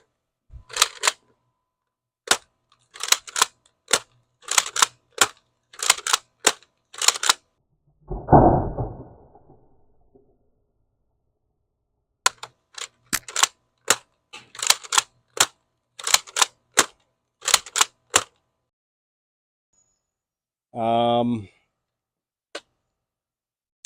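An X-Shot Lock Blaster fires red half-length foam darts in two bursts of sharp, evenly spaced snapping shots, split by a brief rushing sound, with a short whirring burst near the end.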